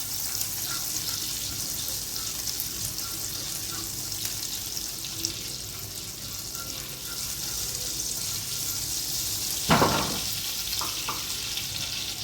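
A butter cube melts in a hot pan with a steady, close frying sizzle throughout and a brief clatter toward the end, with no talk over it.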